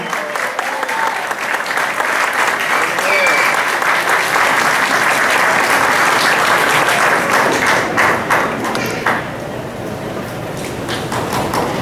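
Audience applause at a festival award ceremony in New York honouring local leaders and artists, loud dense clapping from a large crowd sustained throughout, easing slightly near the end.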